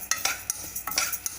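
Dal frying in a pan for chutney powder is stirred with a spoon, giving quick irregular scrapes and soft sizzling strokes close up, with no talk.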